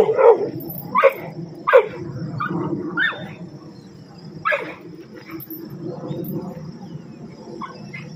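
A dog barks in several sharp, loud bursts near the start, then gives occasional softer barks and whines, with insects chirping faintly in the outdoor background.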